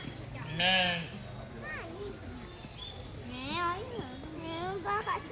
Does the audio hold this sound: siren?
no